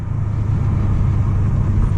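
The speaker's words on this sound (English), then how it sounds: "Sound of that car really good." A 550 hp Mercedes CLS 55 AMG drives along with a continuous, loud, deep engine rumble heard from inside the cabin, steady with no gear changes or talk.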